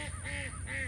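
A single duck gives a pair of short, raspy honking calls close by in a yard, with no talking.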